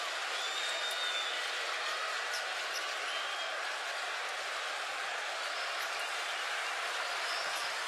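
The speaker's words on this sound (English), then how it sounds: "And the crowd are well and truly in this right now." Crowd noise at a FIBA Basketball World Cup 2019 game between the Dominican Republic and Brazil: a dense, steady roar of cheering fans filling the arena without pause, loud and continuous throughout.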